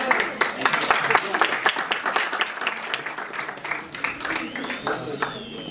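An audience at a journalism students' seminar claps for a student, a dense patter of applause throughout, fairly close, with voices audible beneath it.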